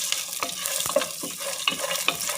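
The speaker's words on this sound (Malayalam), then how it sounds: "കാഷ്യൂ ഇതെല്ലാം കൂടി നമുക്കൊന്ന് വറുത്തെടുക്കാം നെയ്യിൽ" Cashews frying in ghee, stirred in a pan while making semiya carrot mixed pudding: a close, steady sizzle broken by the scrape and clink of a spoon every half second or so, with no talking.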